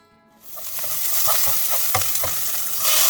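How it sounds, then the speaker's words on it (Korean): Onions stir-fried with coriander powder for a tofu spinach curry, a bright crackling sizzle rising after a brief quiet start, with quick rhythmic spatula stirs, close and loud. "코리안더 가루 넣고 볶으면 됩니다."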